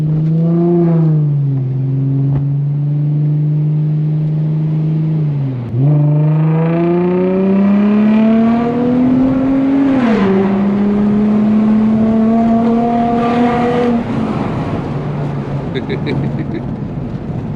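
An Infiniti G35 engine in manual mode climbs in pitch under hard acceleration, dropping abruptly at each gear change before rising again, loud and close throughout.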